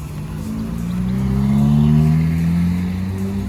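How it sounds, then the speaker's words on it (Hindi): Cars on an Australian road, one approaching while another stops to give way, with a steady engine drone that swells and rises in pitch through the middle, fairly close, no talking. "मतलब वो गाड़ी आ रही है, ये वाली गाड़ी रुक गई है, इसने उसको पूरा रास्ता दिया है"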